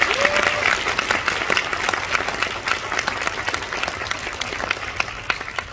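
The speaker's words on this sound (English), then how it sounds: "Let's give the debutantes and escorts a round of applause." Audience applause for debutantes and their escorts at a debutante cotillion ball, a dense, steady burst of many hands clapping that stays loud and fills the room for several seconds without a break.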